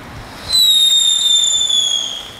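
Leftover consumer fireworks set off outdoors, giving a sudden burst and then a loud, close whistling screech that holds steady for about two seconds before easing off.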